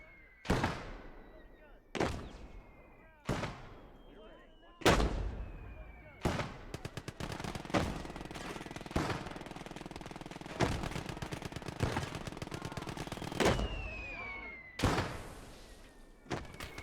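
Gunfire from a WWII real-time strategy video game: a series of loud, sharp cannon and rifle shots at irregular intervals, with a stretch of rapid machine-gun rattle in the middle and a voice talking briefly over it.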